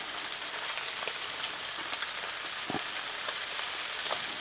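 Bratwursts, butterflied and laid cut side down, sear on a Blackstone griddle with a steady, even sizzle and scattered small pops, fairly quiet and close, with no talking.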